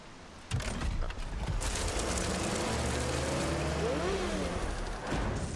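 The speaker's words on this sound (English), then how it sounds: "Why that drink sound like a race car engine?" A drink sound in the video game Lies of P: a mechanical whirring, revving sound like a small race car engine spinning up, with rising and falling tones layered over a steady rumble.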